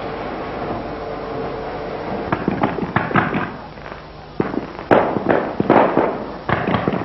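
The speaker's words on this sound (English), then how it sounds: "Bell Vue's famous firework displays were resumed in 1946 on the central island of the small lake." Fireworks at a Belle Vue display pop and crackle in a series of irregular sharp bursts, some overlapping, with brief quieter gaps between volleys.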